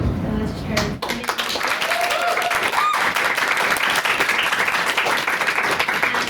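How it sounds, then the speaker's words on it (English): Applause from the audience in a debating chamber after a motion vote, steady dense clapping following a sharp knock, with voices talking over it. "I also again want to give a round of applause to Peggy."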